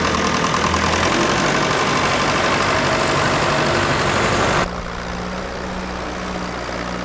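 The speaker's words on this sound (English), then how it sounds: "The Americans class this as a row crop tractor." A large row crop tractor engine, rated around 137 drawbar and 160 PTO horsepower, runs steadily at a working vintage tractor event, a loud continuous rumble that suddenly drops to a lower, quieter idle partway through.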